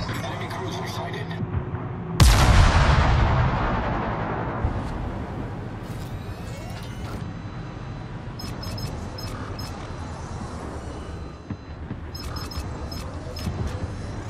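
A naval gun salvo fires in World of Warships from the Des Moines cruiser: one loud, sudden boom, then a long rumbling decay over steady battle ambience, with faint clicks and chimes.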